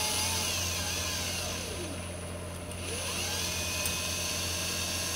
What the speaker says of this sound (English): I basically use a Dremel tool with a buffing wheel.